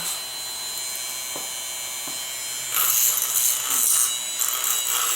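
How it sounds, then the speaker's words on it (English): Dremel rotary tool run once around a wooden pen blank, a high whining buzz that grows louder and rougher partway through as the bit grinds the surface, with faint knocks beforehand. "run that Dremel over it, all the way around it once"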